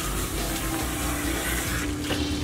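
Warm tap water runs steadily into a sink for washing natural hair before a blow out and silk press, a loud continuous hiss with no pauses.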